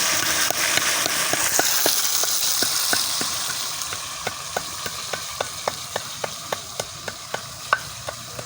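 Taro stems fry in a pan with dried fish paste, a steady sizzle beneath regular clicking taps of a spatula that grow more distinct as the hiss fades slightly.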